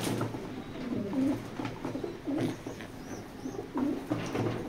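A male racing pigeon coos in its loft, several repeated throaty coos in quick succession, close and clear over a faint background.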